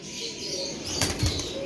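A pigeon flapping its wings close by, a brief flurry of soft rapid wingbeats with a couple of sharper flaps near the end, short and fairly loud against faint background hiss.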